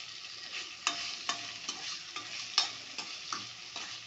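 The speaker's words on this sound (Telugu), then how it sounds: "ఇది కాస్త ఇక్కడ ఉండి మనం తిప్పుకుంటూ ఉండాలండి, అటు ఇటు మాడకుండా" Spoon stirring mint chutney ingredients, dried red chillies among them, as they fry in oil, a soft continuous sizzle broken by regular scraping strokes, close and fairly quiet with no voices.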